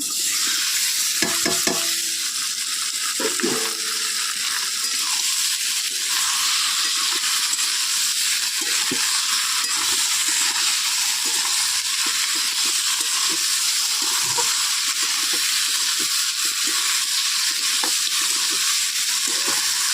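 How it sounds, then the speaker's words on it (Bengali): A large batch of pork, about 30 kg, hits hot oil with chopped onion and chili, sizzling loudly and steadily throughout, with occasional stirring scrapes and clinks and no talking. "তেল আমার গরম হয়ে গিয়ে পেঁয়াজ লঙ্কা কুচি দিয়ে দিয়েছি এখন ওতে এই মাংসটা দিয়ে দেবো"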